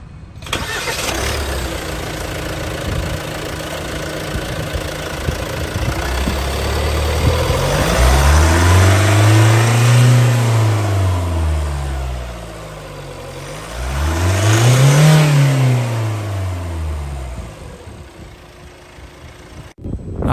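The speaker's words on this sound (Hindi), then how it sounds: "आइए अब डीजल इंजन की साउंड सुनते हैं।" A Hyundai Tucson Smartstream diesel engine, 183 horsepower, starts and settles into a steady idle, then revs up twice in long, rising and falling swells. It is close and loud, with no voices.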